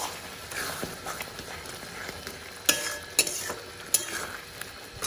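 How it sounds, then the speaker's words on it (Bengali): Spice paste being sautéed for mutton curry, a low sizzle broken by repeated scraping and knocking of a spatula against the pan. "আর এখন মশলাটাকে কষিয়ে নিচ্ছি"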